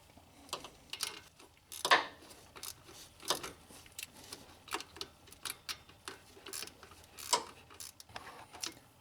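Socket ratchet snugging power steering pump bolts on a 2006-2011 Honda Civic, heard as quiet scattered clicking bursts at an irregular rhythm, close by with no talking.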